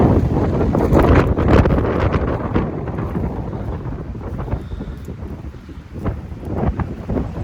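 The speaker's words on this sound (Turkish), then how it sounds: "Çok da büyük bir rüzgar var." Strong wind buffets the microphone in a steady, loud roar with gusty surges, a rough low rumble throughout.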